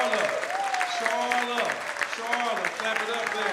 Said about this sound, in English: Clap it up there.